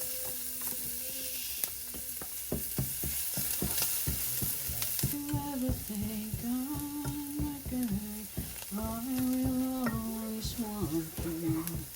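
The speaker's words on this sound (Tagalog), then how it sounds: "Igasan na natin yung minarinate kong beef." Marinated beef sautéing with garlic in a hot pan gives a continuous, fairly loud sizzle, broken by scraping and stirring clatter over steady tonal background sounds.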